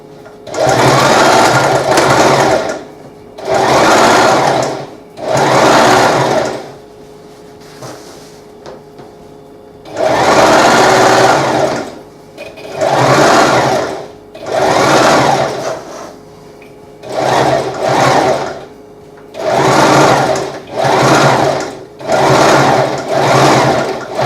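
A sewing machine stitches a fabric medieval knight's pennant flag in about a dozen loud, close bursts of rapid whirring, each a second or two long, separated by brief quiet pauses.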